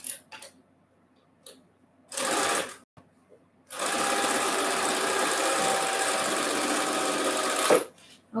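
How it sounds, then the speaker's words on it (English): A sewing machine stitches a quarter-inch seam on quilt block pieces, running in two bursts: a short whirring run, then a longer steady stretch of about four seconds, close and clear with no one speaking over it. "I'm going to sew that using a 1/4-inch seam."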